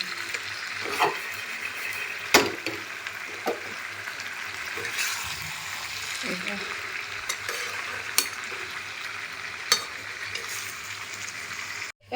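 Pumpkin pieces fry in a pan, a steady soft sizzle with occasional sharp clicks and scrapes of stirring throughout, close by and without talking.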